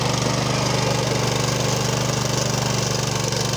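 A Weima walk-behind tractor fitted with rotary tillers rips out raspberry bushes and their roots, its small engine droning loud and close in a steady, unbroken chug with no talking.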